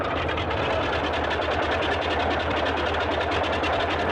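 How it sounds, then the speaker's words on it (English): A Boeing 247D's left piston engine starts and runs with a fast, even mechanical chatter, loud and close, holding a steady rhythm throughout. "Alright, good start on the left engine."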